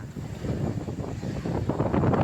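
Strong wind sweeps over the Brahmaputra river as a continuous, rumbling gust with buffeting surges, close and loud, with no voices.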